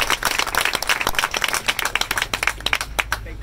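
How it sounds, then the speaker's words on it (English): A crowd claps at an outdoor press event in Gravesend, Brooklyn, where officials condemn antisemitic graffiti; loud, dense, rapid applause continues for several seconds with no speech. "Let's give the precinct a round of applause for their quick response."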